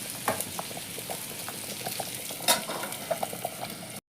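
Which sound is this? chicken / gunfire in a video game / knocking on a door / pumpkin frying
pumpkin frying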